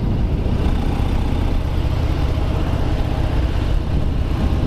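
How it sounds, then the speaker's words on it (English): Steady low engine rumble from a 2018 Harley-Davidson Breakout with a 114 cubic inch V-twin, running continuously and fairly loud without pauses, no voices heard. "this beautiful 114 cube motor that's strong, torquey"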